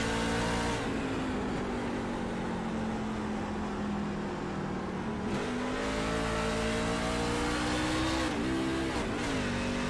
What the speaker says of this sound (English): Did he just miss a gear change?